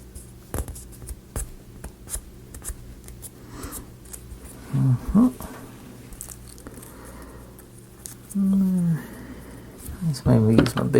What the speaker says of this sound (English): Let's maybe use my big scissors for this outer edge.